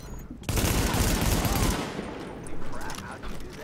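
Gunfire in The Division video game, a burst of rapid automatic shots that cuts in sharply, then fades into scattered crackling reports and a second shorter flurry, with a voice briefly under it.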